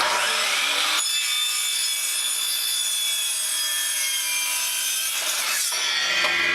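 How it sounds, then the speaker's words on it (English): A sliding compound miter saw cuts through wood pieces, a loud sustained whining cut lasting several seconds and then ending, followed by a shorter second burst as the blade spins down, with no talking. "he's cutting the 3-foot pieces with his sliding compound miter saw"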